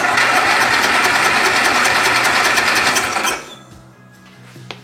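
A small gasoline engine with a carburetor needing adjustment runs rough with a loud, rapid buzzing chatter, then cuts out abruptly, leaving near-silence and a faint click.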